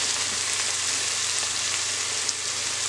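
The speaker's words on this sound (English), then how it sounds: "we're just sweating those onions and garlic" Onions and garlic sweating in a pan for a spaghetti sauce make a loud, even, continuous sizzle that hisses on without a break.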